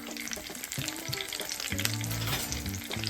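An egg sizzles and fries steadily in a pan for a traditional Jamaican breakfast, with a few soft scraping stir and flip sounds over the continuous crackle and no talking.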